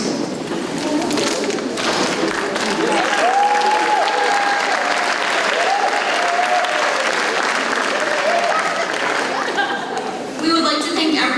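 An audience applauds at a 2021 high school homecoming coronation, with sustained, loud clapping filling the room for several seconds. Some voices and faint thuds sit underneath.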